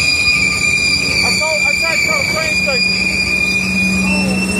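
A train rolls along the tracks near a truck stuck on the crossing, a loud, steady rumble with high squealing wheel tones and rhythmic clatter, while people talk nearby.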